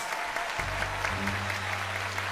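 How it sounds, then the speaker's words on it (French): A television-show audience claps steadily at moderate distance for a double bass player being introduced, while low sustained bass notes rise beneath the applause partway through. "Vous pouvez l'applaudir à la contrebasse."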